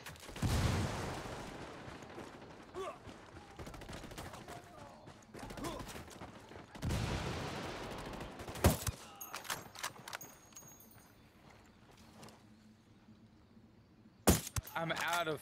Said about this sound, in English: Frag out, heads up.